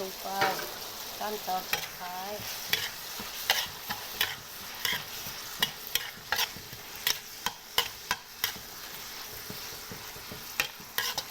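Clams stir-fried in a pan for a spicy Isan dish make a soft frying hiss, broken by repeated sharp clacks of a spatula and shells against the pan. The stirring comes close and in an irregular rhythm, with no voices.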